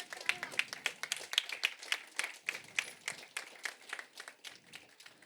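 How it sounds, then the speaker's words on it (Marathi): An audience applauds an award recipient at a ceremony honouring social workers for their work during the coronavirus period: dense, continuous clapping from many hands, loud and steady for several seconds with no voices. "जोरदार टाळ्या"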